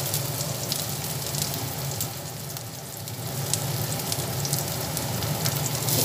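Fish roe frying in a pan with onion and garlic gives a dense, steady sizzle that runs loud and continuous throughout, with no voices over it.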